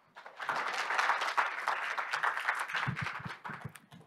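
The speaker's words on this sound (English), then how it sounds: "Please give her a big round of applause." Audience applause at a business seminar welcoming a speaker: clapping swells quickly from silence into a steady crowd ovation, with a few nearer, sharper claps standing out as it thins toward the end.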